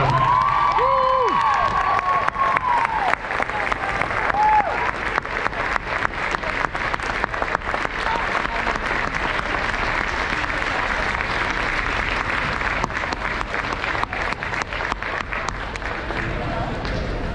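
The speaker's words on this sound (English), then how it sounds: "I think it's a standing ovation for them." Sustained crowd applause fills a gym at a Spikes girls' pep rally, a dense steady clapping with cheers and a few shouts mixed in, loud and continuous throughout as the crowd gives a standing ovation.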